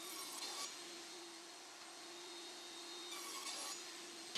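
A table saw runs steadily through wood cuts for a child's house-shaped storage box, a sustained whining buzz with a couple of brighter swells as the blade bites, fairly close and alone without talk.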